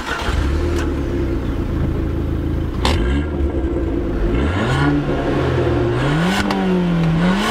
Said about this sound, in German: Ich sitze im Abarth und jetzt wird er gestartet.